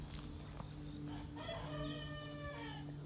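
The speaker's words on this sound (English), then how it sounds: "He's crowing! He's crowing!" A rooster crows once in the distance, a faint drawn-out call rising over a quiet outdoor background hum, with no one speaking.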